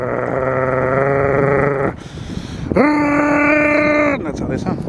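A voice imitates a Detroit diesel engine running as a generator, with two long, droning, growling bursts separated by a short pause, loud and close on a street.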